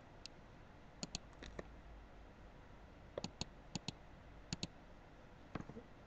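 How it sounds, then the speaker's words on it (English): Sparse keystrokes on a computer keyboard as a cloud server's IP address is entered, scattered clusters of sharp, fairly quiet clicks with pauses between them over a faint hiss, no talk. "So we can simply type in our IP address of our cloud."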